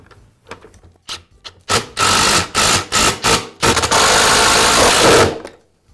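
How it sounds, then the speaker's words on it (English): A plastic guard being refitted onto an Echo leaf blower during a cylinder gasket repair: a close series of short scraping and rubbing bursts, then a longer sustained scrape that fades out. "And I'll reinstall the guard."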